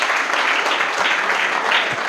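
A church congregation at Sunday worship clapping loudly together, a dense, sustained burst of applause filling the room from start to finish.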